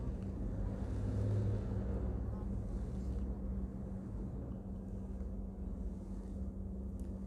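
A car speeds up along a road in Pakistan, giving a steady, muffled engine and road drone from inside the car, with a low hum and some wind noise throughout.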